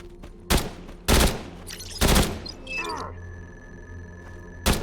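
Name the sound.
gunfire in a video game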